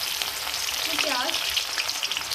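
Onion frying in hot mustard oil, a steady bright sizzle with a brief louder crackle as the pieces hit the pan, close and continuous throughout.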